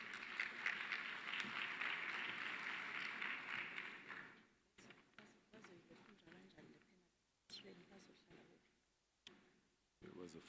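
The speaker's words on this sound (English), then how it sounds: "Can you give the MEC a big hand of applause?" An audience at an education sector conference applauds for about four seconds; the clapping fades out and gives way to scattered talk and room noise.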